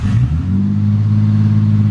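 A VQ V6 car engine revs up, then settles into a loud, steady, low idle close by.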